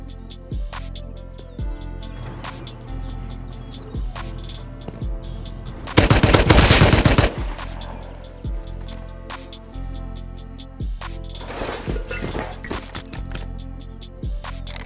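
Automatic AK rifle fire in the survival game Rust, rapid bursts of loud cracking shots crowding together in one dense, heavy volley, with scattered single shots and short bursts repeating before and after.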